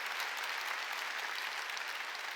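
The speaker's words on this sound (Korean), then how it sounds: "박수 치라고 여기 앉아있어요." Church congregation applauding during a Sunday worship service, a dense, even wash of clapping that stays steady throughout and sounds fairly distant and quiet.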